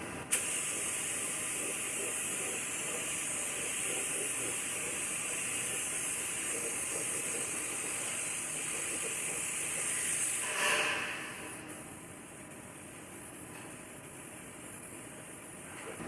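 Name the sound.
spraying epoxy primer on truck frame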